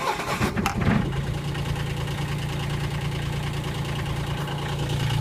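An excavator's diesel engine cold-starts after the glow plugs are heated, cranking briefly with a burst of clatter before settling into a steady, rough, knocking idle that runs on to the end.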